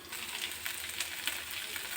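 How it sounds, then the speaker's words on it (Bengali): Eggplant fries in a pan with a soft, continuous sizzle and occasional small crackles. The sound is close and fairly quiet, with no voices. "এই দেখুন হালকা হালকা ভাজা হয়ে গেছে"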